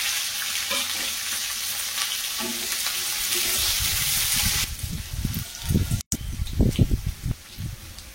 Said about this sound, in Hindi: तो एबे आमे पियाज आ कैप्सिकम को एई तेल रे भाजी नबा।